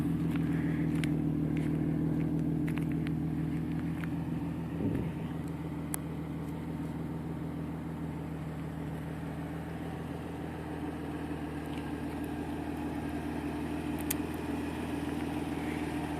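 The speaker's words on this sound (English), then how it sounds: "This exhaust is by far the best ever. It has ART pipes with it, which are just give it this unique sound." A 10-year-old Infiniti G35 with a Motordyne exhaust and ART pipes idles steadily nearby, a deep even low hum holding constant throughout with only a brief bump midway.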